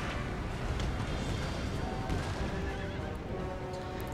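Horses neigh and gallop in a Napoleon Total War battle, dense pounding hoofbeats forming a loud continuous rumble with whinnies rising above it throughout.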